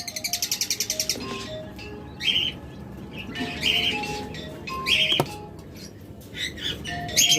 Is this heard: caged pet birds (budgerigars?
yes